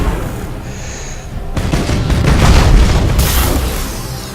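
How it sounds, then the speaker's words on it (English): Imperial Navy torpedoes launch in the space strategy game Battlefleet Gothic: Armada, producing a sudden loud booming rumble that swells and sustains for a few seconds after a quieter lead-in. "let's fire torpedoes on my fire"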